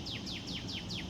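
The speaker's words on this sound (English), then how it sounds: "Y'all hear the birds chirping?" A bird repeats a quick descending chirp about five times in steady rhythm, fairly close, against faint background noise.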